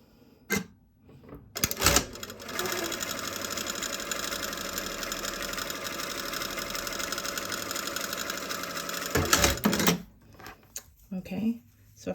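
A sewing machine stitches down a bias bound seam in one steady, loud, continuous whir lasting several seconds, opened and closed by short clicks and handling noises.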